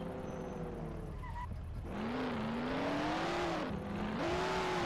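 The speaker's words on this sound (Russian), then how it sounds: "Просто послушайте, как ревет ее мотор." Vintage car engine roaring in the video game Mafia: The City of Lost Heaven, a close, steady engine hum that rises and falls in pitch as the car accelerates and shifts, with no talk.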